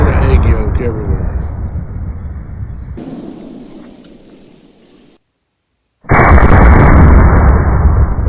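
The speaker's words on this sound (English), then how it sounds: "it's a 900 grain bullet hitting it fast enough to blow it up like that" A .70 caliber lever action rifle fires a 900 grain bullet that blows apart a jug, with a loud blast at the start. Another heavy boom follows after a brief silence, and strong broadband noise continues under talk.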